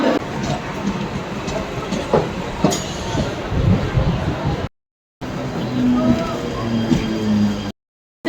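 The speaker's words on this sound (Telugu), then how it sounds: "మేము లోకల్ ట్రైన్లో ఉన్నాము" A Mumbai local train rumbles along the rails with rhythmic clacking and a steady roar, heard from inside the carriage, with brief gaps of silence.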